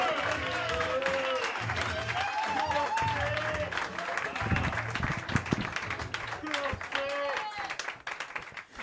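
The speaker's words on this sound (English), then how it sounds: "Clap it up as loud as you can for Jonas Barnes." Applause from a comedy roast audience, steady clapping and crowd noise beneath loud, talk-like voices and a shouting crowd, with a few louder bursts midway.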